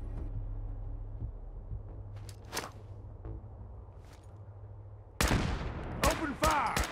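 Gunfire in the video game Fallout 4 Nuka World, where a quiet stretch with a couple of faint shots gives way to loud, close bursts of rapid shooting near the end.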